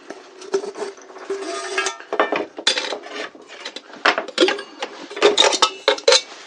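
Camping cookware, a lid that doubles as a frying pan with a small handle, clinks and scrapes close by in a run of irregular metallic knocks and rubs, with no talking.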